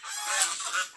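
Ducks give a brief, harsh honking quack that rises and falls twice in quick succession, fairly close, with no other sounds around it, in Camarines Norte, Philippines.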